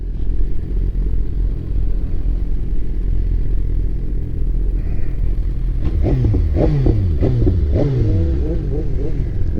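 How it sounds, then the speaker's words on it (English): A BMW S1000RR superbike idles with a loud, low rumble. It then breaks into a quick series of sharp, aggressive rev blips close by before settling again. "Most aggressive sounding bike, man."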